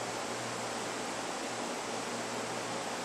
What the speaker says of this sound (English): Rinse the solids off of that.